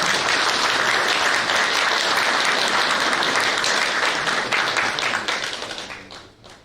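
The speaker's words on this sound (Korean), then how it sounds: "박수 보내드립니다." Loud, dense applause from a large audience fills a political party's founding convention, steady for several seconds before tapering off at the end.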